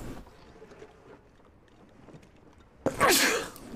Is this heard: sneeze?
yes